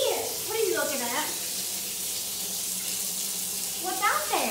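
Tap water runs steadily for a capuchin monkey's bath, a continuous hiss close by, while a person talks briefly at the start and end.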